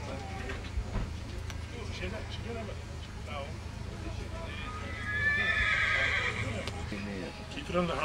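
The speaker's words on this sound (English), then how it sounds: "There's a big horse." A big 18-hand horse at an outdoor horse show gives a loud, drawn-out whinny midway through, with hooves clopping and people talking throughout.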